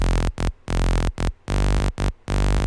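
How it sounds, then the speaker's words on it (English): Unprocessed colour bass made of three saw-wave oscillators layered with white noise, loud and buzzy, played in a choppy rhythmic pattern of sustained notes broken by short gaps, with no voice. "Those two sounds together without any processing sound like this."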